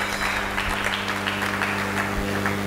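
A church congregation claps steadily throughout, a dense, even wash of applause from many hands, loud and continuous with no pauses, and a low hum sitting underneath.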